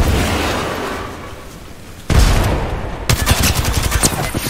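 Video game gunfire in Apex Legends-style combat at Hammond Labs: a fading blast, then a loud burst at two seconds followed by rapid, closely spaced shots crackling to the end.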